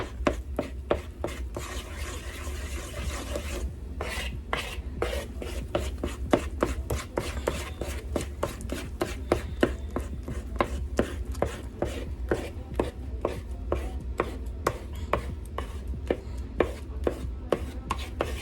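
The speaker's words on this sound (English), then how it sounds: "So you mash it till the everything becomes nice and smooth, because everything is ripe." Ripe banana and avocado being mashed together with a masher into a smooth hair treatment, a steady run of close, crisp squishing and tapping strokes with no talking.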